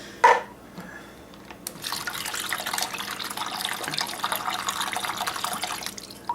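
Shaken cans, likely of salmon, are emptied into a plastic bag: a sharp click, then a steady, close, wet splashing and gurgling pour that lasts several seconds, with no talking.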